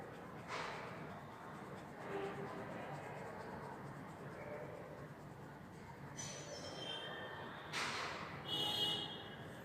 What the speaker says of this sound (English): when you are drawing shadows, you have to fill with the pencil strokes